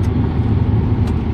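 Jeep interior while driving, a low steady engine and road rumble filling the cabin, with no one speaking.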